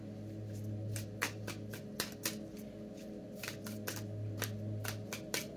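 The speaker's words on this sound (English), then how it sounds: "This deck is difficult to shuffle." A deck of tarot cards being shuffled by hand, a run of crisp riffling snaps and flutters repeating at an uneven rhythm, close and fairly quiet, with no talking.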